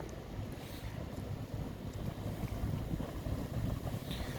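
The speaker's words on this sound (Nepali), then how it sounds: "अब यहाँबाट उताबाट दुईवटा बोट आउँदैछ।" Boats on open water give a low, continuous engine rumble that is mixed with wind buffeting the microphone. The sound is steady and fairly faint, with no one speaking.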